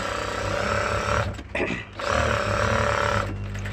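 A sewing machine stitching a fabric belt for a blouse, running loud and close with a steady whirring drone, briefly slowing and pausing midway before resuming at full speed, with no talking.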